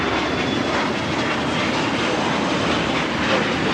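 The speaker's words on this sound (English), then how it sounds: "That is a Challenger 300 taking off." A Challenger 300 business jet takes off at LAX, a steady, loud broadband engine roar that fills the whole clip with no break and no voices.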